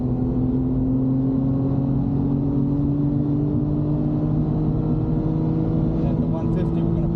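A BMW E90 race car at full throttle on a race track, its engine holding a loud, steady droning note from inside the cabin with a slight rising pitch throughout.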